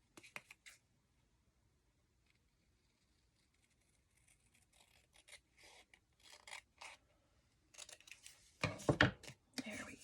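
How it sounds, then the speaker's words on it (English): Paper being trimmed for a handmade junk journal, with faint, scattered rasping cuts and rustles that grow denser and louder toward the end. "So I'm just going to trim this down."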